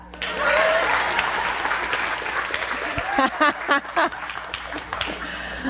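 An audience claps loudly and steadily, with scattered cheers rising over the dense applause.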